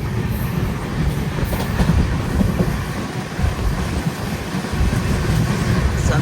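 The Karnataka Sampark Kranti Express, a passenger train running from Hazrat Nizamuddin to Yesvantpur, roars along at speed with continuous close rumble, faint clickety-clack and occasional high wheel squeal.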